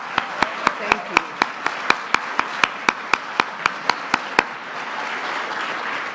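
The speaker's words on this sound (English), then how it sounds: "We're going to give them a round of applause." A crowd applauds at the Kids State Dinner, with loud, sharp individual claps landing in a steady rhythm over a dense wash of clapping. The sharp claps stop partway through while the general applause carries on.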